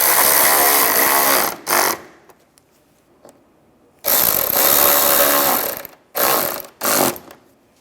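Power tool driving and tightening exhaust manifold bolts on a 2007-2013 Mini Cooper, in several loud whirring bursts separated by quiet gaps, with faint clinks between them.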